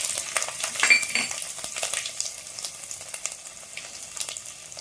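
Ginger hits hot oil already crackling with mustard seeds and fenugreek, a close steady sizzle with popping bursts and light stirring scrapes throughout.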